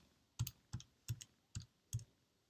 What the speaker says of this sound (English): You want to get used to typing this on your graphing calculator